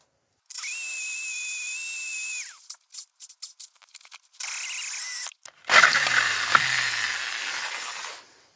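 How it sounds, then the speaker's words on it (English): A drill bores a hole into concrete during a Ford Escort MK1 restoration: a sustained high whine, then a run of short choppy bursts and stops, ending with a rougher, grinding spell, close and fairly quiet. "I've drilled straight into the concrete."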